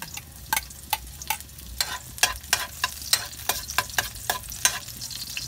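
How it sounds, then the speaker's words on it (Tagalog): Garlic sautéing in a pan for an eggplant and pork dish, with a steady low sizzle under repeated sharp scrapes and clicks of a utensil stirring against the pan, fairly close and at a brisk, uneven rhythm. "igisa ko muna ang bawang"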